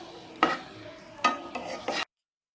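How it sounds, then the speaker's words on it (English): Slices of bread for bread halwa frying and being stirred in a pan, with three brief scraping bursts of spatula against metal over a soft, steady sizzle. "Fry this bread slices as this golden color"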